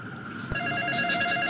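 A telephone starts ringing after a faint click, its electronic ringtone repeating steady bright beeping tones at moderate loudness over a constant background hum.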